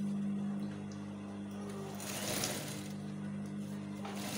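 A sewing machine hums faintly and steadily while top stitching a trouser fly zipper, its quiet motor whir running without a break against a low background.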